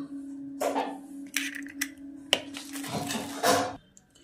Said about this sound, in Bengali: এবার এতে 4টে ডিম ফাটিয়ে দিয়ে দেবো।